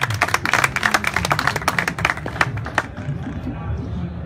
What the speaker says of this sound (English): please give him a harsh clap